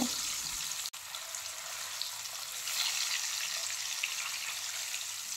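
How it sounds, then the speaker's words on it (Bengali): Boiled eggs shallow-frying in hot white oil over a medium flame, giving a steady, close hiss and crackle that runs throughout, with one brief dip near the start. "তেল গরম হলে সেদ্ধ করে রাখা ডিমগুলো তেলের মধ্যে দিয়ে মিডিয়াম ফ্লেমে হালকা করে ভেজে নেব"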